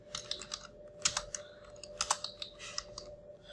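Someone types a line of code on a computer keyboard in quiet, irregular bursts of crisp key clicks, a few strokes landing harder than the rest, over a faint steady hum.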